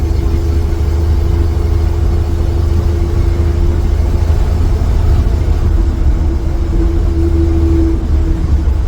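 A 1955 GMC truck's engine drones loud and close inside the cab, a steady low rumble whose pitch climbs slightly as it accelerates toward second gear.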